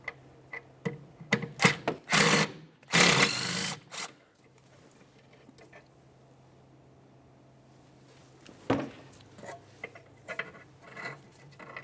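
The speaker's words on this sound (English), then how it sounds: "We'll use our 12mm to remove this bolt." A 12mm wrench works a brake hose bracket bolt loose on a Honda Accord, giving several short close metallic scrapes and ratcheting bursts separated by near-silent pauses.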